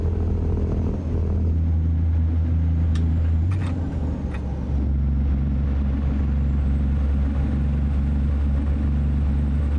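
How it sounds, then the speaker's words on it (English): A Kenworth T680 using its Jake brake in American Truck Simulator, on a drive from Denver to Santa Fe: a loud, steady, deep engine-braking rumble runs through the whole stretch, with a few brief clicks and hisses partway through and no talking. "Well, that's quite the Jake brake."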